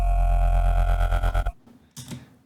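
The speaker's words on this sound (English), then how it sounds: "one of my favorite sounds in this tune, which is this really piercing bass" A loud, sustained synth bass tone, harsh and buzzing with bright overtones, drones for over a second, cuts off, then a brief sharper stab follows.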